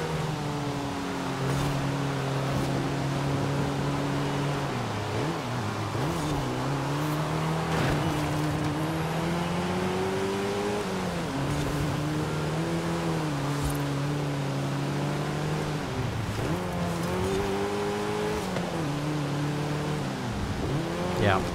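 A Mercedes-Benz 190E 2.5-16 Evolution II races in Forza Horizon 5, its engine droning steadily and rising and falling in pitch through gear changes and corners, with brief hints of tire squeal along the way.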